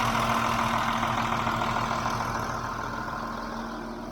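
A Ford TW30 tractor engine runs steadily under load, a continuous low diesel drone with a strong steady hum that fades slightly toward the end, with no talking.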